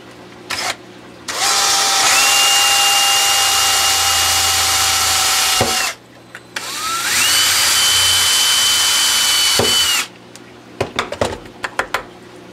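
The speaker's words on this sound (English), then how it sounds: "we're going to be drilling a series of holes around" A power drill with a 3/16 inch bit bores holes in a plastic MaxiJet aquarium powerhead in two loud, sustained whining runs whose pitch rises as the motor spins up, followed by a few sharp clicks and taps.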